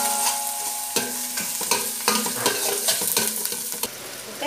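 Onions and curry leaves fry in a pan for a fish masala. Close, crackling sizzle mixes with several quick stirring scrapes against the pan, and no one speaks.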